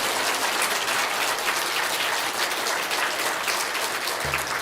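A church congregation applauds during a Korean Sunday morning worship service, dense clapping filling the room steadily for several seconds with no speech over it.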